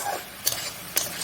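Food sizzles in a hot pan while a utensil stirs it, giving two quick scraping strokes over a constant frying hiss.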